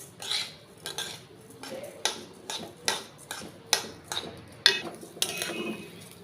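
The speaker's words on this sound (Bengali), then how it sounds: "গ্যাসের ফ্লেম মিডিয়ামে রেখে চালগুলোকে সুন্দর একদম লাল লাল করে ভেজে নেব" Dry raw rice stirred in melted ghee in a pan over a medium flame, giving a steady series of light scraping clinks of a spoon against the pan, roughly one per second, fairly close, with no voices.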